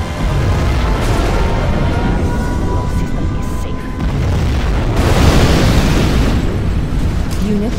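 A nuclear missile detonation in the real-time strategy game Command & Conquer Generals Zero Hour, a continuous loud rumbling roar of booming blasts that swells again midway, layered with game battle noise.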